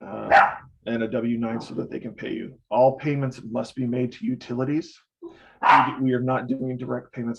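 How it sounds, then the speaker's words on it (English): A dog barks in the background behind a person speaking indoors, with sharp, fairly loud barks at the start and again near the end, mostly under steady talking. "I'm so sorry about my dog behind me."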